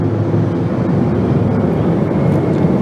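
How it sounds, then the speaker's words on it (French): Three helicopters of a presidential escort pass overhead in a loud, continuous rotor and engine roar that stays steady throughout, with no talk. "c'est 3 hélicoptères qui viennent encore de passer"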